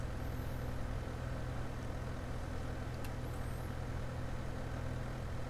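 Tractor engine in Farming Simulator 2015, a low, steady mechanical drone that stays loud and unchanging throughout, with no talking over it.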